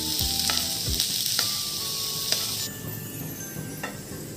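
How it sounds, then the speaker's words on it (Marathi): Chopped vegetables and peas fry in a pan with a continuous hiss and crackle, broken by a few sharp knocks and scrapes of a spoon stirring against the pan, close up with no voices. "या सर्व भाज्या देखील आपण छान फ्राय करून घेणार आहोत"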